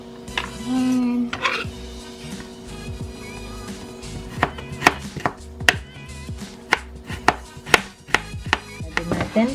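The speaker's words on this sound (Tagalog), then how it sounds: "i-chop na muna natin itong carrots." Carrots being chopped with a knife on a cutting board in a home kitchen while making tuna balls, a run of sharp, close knocks that quicken into a steady rhythm, with no talking over them.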